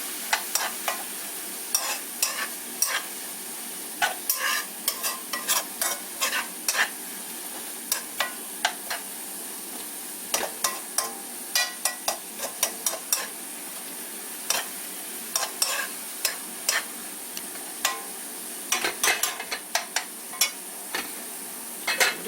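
Aged kimchi is stir-fried in a pan for home-style kimchi noodles, a steady soft sizzle broken by frequent sharp scrapes and clacks of the utensil against the pan, with no talking.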